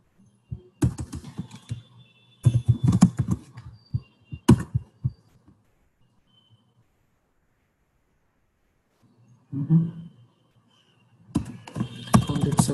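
Computer keyboard typing comes in several quick bursts of key clicks, separated by pauses, close and fairly loud, while someone enters a password.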